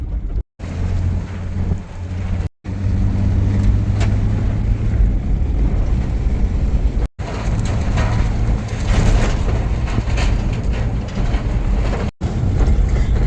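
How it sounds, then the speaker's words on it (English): Toyota 4Runner engine in four-wheel drive, towing a Toyota pickup Xtracab on a trailer over snowy, icy roads: a steady, loud low rumble with road and wind noise, broken by several brief dropouts. "4Runner's pulling like a beast already"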